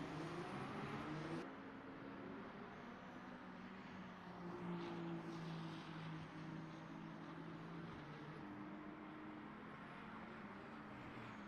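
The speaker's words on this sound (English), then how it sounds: "Just listening to the sounds of some of the cars out there in LMU." LMGT3 race cars in the Le Mans Ultimate sim at the COTA circuit, a continuous engine drone with a steady droning pitch shifting slightly as cars run, no talk, moderately loud throughout.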